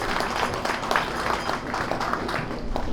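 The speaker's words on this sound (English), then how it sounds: "please give a warm applause to Winston Damarillo" An audience at a media launch gives steady, dense applause for a speaker, many hands clapping together at close-to-mid distance without pause.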